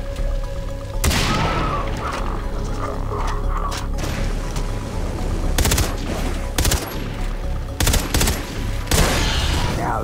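Rifle gunfire in the video game Far Cry 3: Blood Dragon, sharp loud shots and booms fired irregularly over game background noise, with occasional speech.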